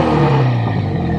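A 1965 BSA 650 Thunderbolt motorcycle engine runs loud and close, its low steady drone holding with a slight drop in pitch midway and no voices over it.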